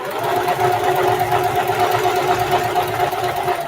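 A serger sewing machine runs continuously while stitching fabric pieces together for a patchwork duffle. Its rapid, even mechanical whir and fast needle chatter are loud and close, with no speech.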